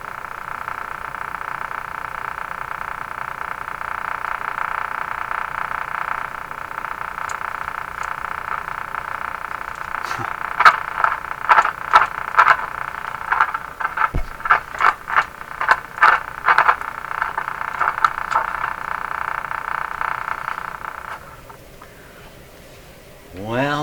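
Shortwave band noise from an RCA Victor Model 5T5 radio tuned around 6 to 8 megahertz after RF capacitor replacement, a steady hiss with crackling bursts and clicks in the middle, dropping away near the end.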